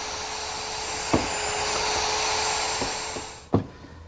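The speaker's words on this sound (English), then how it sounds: "Push the pin in, slide the jig back in place, and route some more holes." A router cutting shelf pin holes in wood with a jig, a loud steady whining roar with a few sharp thumps as each hole is plunged, close and alone.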